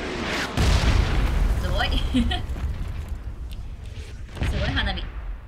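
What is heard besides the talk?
explosions like fireworks in the video game PUBG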